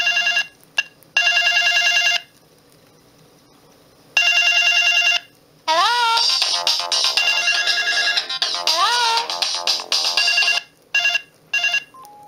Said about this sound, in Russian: А вот тут рингтоны прям прикольные от автора.